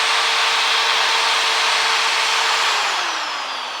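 Close and loud, a power drill bit bites into the body of a Crew Cab Charger under restoration, holding a steady whine before the motor begins to slow and fade near the end.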